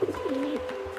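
A pigeon coos in GTA V single-player mods, a few soft throaty warbling coos in quick succession, close and fairly clear, with no talk.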